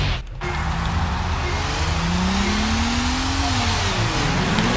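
Race cars accelerating off the start line in Sega GT 2002, a field including an Evo 8, STI Impreza, Evo 4, E-Type and NSX, engines revving loud and rising in pitch together as they shift gears.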